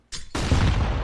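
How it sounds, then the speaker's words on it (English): A flashbang grenade detonates during a competitive esports match: a short crackle, then a loud, sharp blast that rolls into a sustained, roaring burst of noise. "Flashbang will come out."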